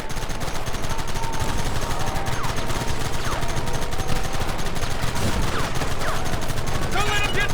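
Gunfire in a Red Dead Redemption shootout among rocks, a continuous barrage of shots blending into constant loud game noise, with voices shouting over it.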